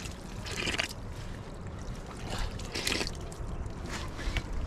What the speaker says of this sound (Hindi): ये है जी पानी का चश्मा।